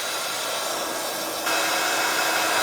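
Steady, loud rushing blast of a heat tool drying stamped ink on mirror card, continuous throughout and rising slightly in strength partway through, with no talking.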